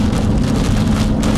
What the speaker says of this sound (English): We're going to be out of the rain here shortly.